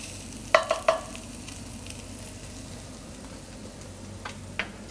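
Beef short ribs with tomato paste sizzle steadily in a pot, with a few sharp metallic stirring clanks near the start and a softer knock later, no voices.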